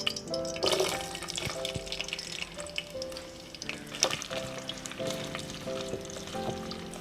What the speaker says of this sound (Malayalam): ഇതൊന്ന് ചൂടായി വരുമ്പോൾ നമുക്കതിലേക്ക് സവോള അരിഞ്ഞ് വെച്ചേക്കുന്ന ബാക്കി ചേർക്കാം